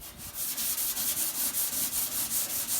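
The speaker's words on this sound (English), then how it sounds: "This is our grit pad. It's like a nylon pad with a grit actually put into it" A nylon grit pad scrubs rust off a Ferguson tractor in quick, steady back-and-forth strokes, a close, rhythmic abrasive rasp repeating several times a second with no voices.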